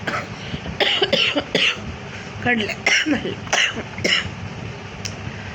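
A child coughs in several short, harsh bursts spread across the moment, mixed in with adults talking nearby.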